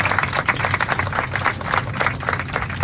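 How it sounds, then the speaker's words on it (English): Round of applause for The Elephant Whisperers documentary team on board an IndiGo flight, close, moderately loud clapping from a small group of passengers, continuous with irregular individual claps. "So a huge round of applause for this team."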